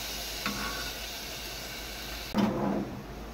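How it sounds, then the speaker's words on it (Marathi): Vegetables are added to hot oil tempering in a home kitchen, giving a soft, faint sizzle that flares into a short, sharper hiss near the end. "थोडं फ्राय करून द्यायचं तेलामध्ये आणि नंतरच भाजी टाकायची."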